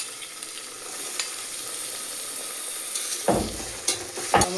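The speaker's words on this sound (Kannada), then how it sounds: "ಟೊಮೊಟೊ ಎಲ್ಲ ಚೆನ್ನಾಗಿ ಬೇಯಲಿ." Tomatoes frying in a pan for veg pulao, a steady close sizzle with a few sharp scraping stirs of a spoon near the end.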